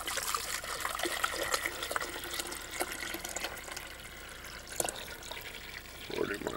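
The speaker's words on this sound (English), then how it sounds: "Pour in my water" Water is poured into a coffee pot, a continuous trickling, splashing stream at close range that carries on for several seconds with no talking.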